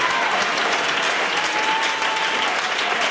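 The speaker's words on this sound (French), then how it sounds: "Est-ce qu'on peut se tenir debout et donner une main d'acclamation?" Loud, dense applause from a standing church congregation honouring their pastor at a revival service, continuous and full.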